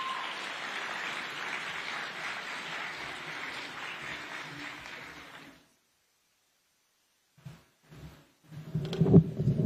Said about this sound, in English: Let's welcome her with a warm clap on stage.